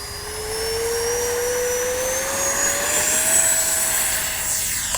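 A Freewing F-16 70mm RC jet with EDF power throttles up and takes off, its rising turbine-like whine climbing in pitch and building steadily, fairly close and without voices.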